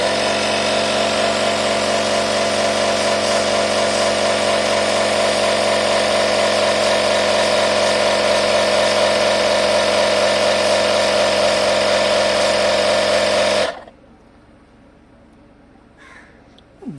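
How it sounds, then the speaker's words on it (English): Portable smart tyre inflator motor running steadily and loudly, a constant whirring hum that holds for about thirteen seconds before cutting off abruptly into near silence. "Now I will start the engine."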